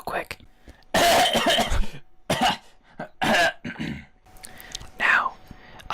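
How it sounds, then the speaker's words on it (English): A person coughs several times in a podcast setting, with sharp, harsh bursts close to the microphone separated by short pauses. "Sorry, I need to cough real quick."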